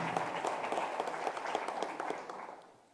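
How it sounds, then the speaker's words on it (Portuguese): A church congregation applauds during a Sunday evening service, with dense continuous clapping that holds steady and then fades out at the end. "Você pode aplaudir ao Senhor mais uma vez."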